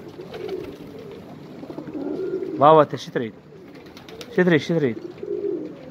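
Old Iraqi pigeons give two bursts of deep, throaty cooing close by, separated by a short pause, while someone speaks softly and intermittently around them.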